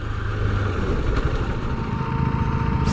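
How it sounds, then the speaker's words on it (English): Cooling fan on a 2017 KTM RC390 motorcycle running loudly with a steady, close whirring drone over a low idle hum, unchanging throughout. "Fan on this bike is really quite loud."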